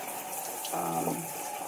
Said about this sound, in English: just rinse these out